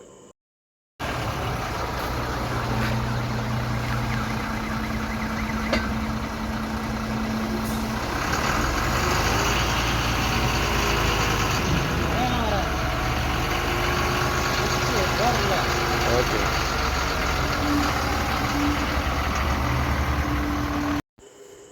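A 2018 Ashok Leyland BS4 14-wheel diesel lorry engine idles steadily with a deep, continuous rumble, close by; someone briefly speaks over it.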